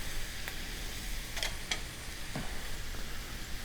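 Vegetables and spices (pepper, sage, chili powder, smoked paprika, cumin) are stirred in a skillet for breakfast chili, with a faint steady sizzle and a few soft utensil scrapes and taps, no voices.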